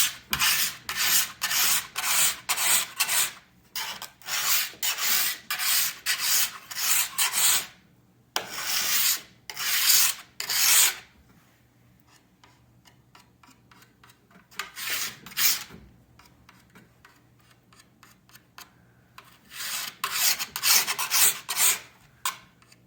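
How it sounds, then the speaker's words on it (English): A sharpening stone filing the steel edges of Lenz skibike skis, rhythmic close rasping strokes in repeated bursts with a quieter pause in the middle, no talking. "you're going to want to try to hold the sharpening stone as flat as you can"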